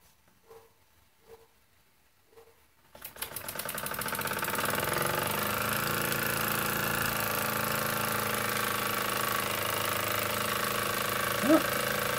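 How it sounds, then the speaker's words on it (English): A Jensen #60EL toy steam engine drives a #15 generator, starting after a few soft knocks and settling into a steady, loud mechanical whir and rhythmic chugging that continues to the end. "I think the engine's running a little easier."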